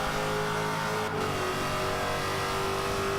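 A Jaguar XKR-S in Forza 5 on the Catalunya circuit, its engine revving hard under full throttle, a loud steady roar heard close without talking.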